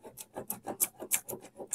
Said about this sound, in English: And then you just start rubbing like fury